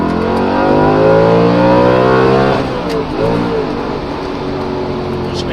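Audi RS4 B7 (2007) engine revving hard to around 8,000 RPM in second gear, loud and close, a rising harmonic howl that climbs then drops off as the driver shifts, with the engine still droning afterward.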